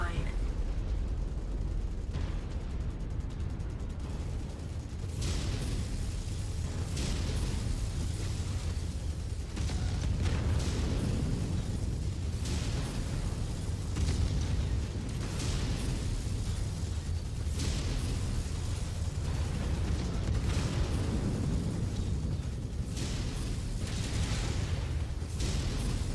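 A destroyed enemy mech exploding in MechWarrior 5, a heavy continuous rumble of blasts with repeated sharp bursts and pops throughout, loud and dense, with a voice now and then.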